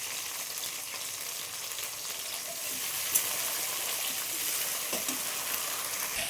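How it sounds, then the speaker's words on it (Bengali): Long beans frying slowly in oil in a wok, a faint, even hiss of sizzling with a few light stirring taps, soft and steady for several seconds with no one speaking. "আগে বরবটিটা ভেজে নেব, আস্তে আস্তে করে ভেজে নেব কড়াইতে।"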